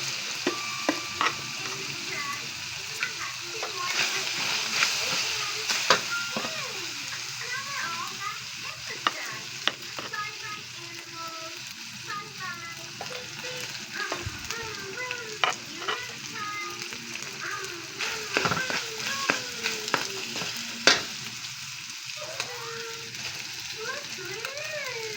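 Rice stir-fried with browned beef and vegetables in a pan, continuous sizzling with repeated scraping and clattering of a spatula, close and moderately loud, a voice speaking now and then.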